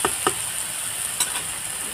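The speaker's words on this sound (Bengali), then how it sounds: "ভালো করে একটু নেড়ে চেড়ে নেবো।" Shrimp and vegetables with chal kumro stalks cook over low heat in a pan, giving a steady sizzle with a few quick stirring scrapes early on and near the middle, close and moderately loud, with no talking.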